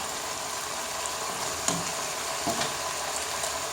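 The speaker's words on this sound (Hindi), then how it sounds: "इसको फ्राई करते हैं" Whole spices such as cardamom and cloves fry in a pan for chicken korma, a soft, steady sizzle with a couple of faint clinks, close and without talk.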